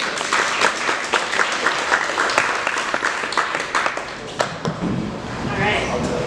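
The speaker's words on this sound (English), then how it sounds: "Guys, give a huge round of applause for the one and only Laura Corrigan" An audience at a stand-up comedy show applauds a comedian coming to the stage, close, lively clapping that thins toward the end, with a voice briefly speaking under it.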